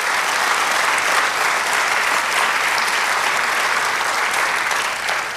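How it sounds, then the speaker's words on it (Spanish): A church congregation applauds, a dense, continuous wash of clapping from many hands filling the room at steady loudness for several seconds. "Denle un aplauso al Señor."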